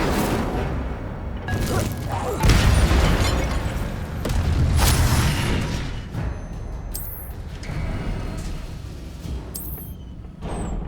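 Incendio fire spell cast in Hogwarts Legacy, a series of loud booming fiery bursts with crackling flame and whooshing impacts, repeated over dense game sound and music, with brief bright chimes near the end.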